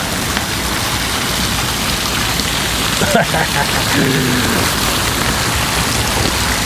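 Steady rain pours down outdoors at a freezing winter crucian carp fishing spot, a dense continuous hiss with a brief faint voice partway through.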